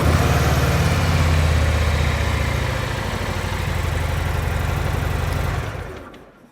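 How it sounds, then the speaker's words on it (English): A Harley M8 motorcycle engine runs close by with a steady, low, throbbing idle, then quickly dies away to silence near the end. "We're going to run the bike"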